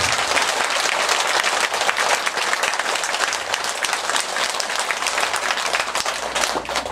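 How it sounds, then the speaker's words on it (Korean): Lecture audience at a Buddhist dharma talk breaks into steady, dense clapping that fills the room loudly and evenly for several seconds, with no voices over it. "우리가 갖고 있는 그 중생성을 위해 가지고 박수 한번 치세요."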